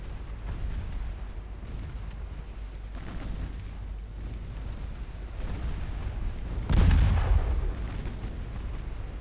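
Warship secondary battery guns fire in a naval battle game as a low, rumbling series of booms under a steady roar, with one heavy, louder blast standing out late.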